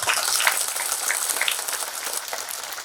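Villagers at a satsang gathering in Garha Rampur, Madhepura, clap together in a full, even wash of applause that holds steady and tapers slightly toward the end.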